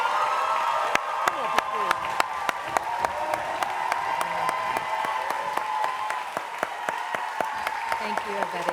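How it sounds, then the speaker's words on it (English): Audience applause at a New York City education announcement with the mayor and schools chancellor, a dense crowd clapping steadily throughout with sharp individual claps standing out and faint voices underneath. "I think she deserves an even bigger round of applause"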